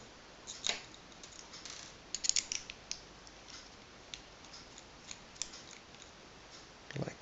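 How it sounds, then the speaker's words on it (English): A small screwdriver turning out the screws of an airsoft pistol hop-up on a Tokyo Marui 1911, faint close ticks and scrapes in short, irregular bursts with quiet gaps between. "Just use a small screwdriver"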